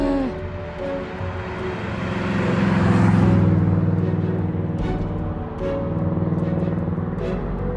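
Traffic rolling across a bridge, a car's rumble swelling to a loud pass near the middle and easing off, over a steady low drone of engines and structural hum.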